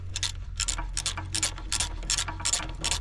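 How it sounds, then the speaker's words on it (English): A ratchet with a 14mm socket tightens a bolt on a 1968 John Deere 140, giving about ten rapid, even clicking bursts close up over a steady low engine-like hum. "14mm socket. Nice and easy. Make sure we're on the tightening stroke, which we are."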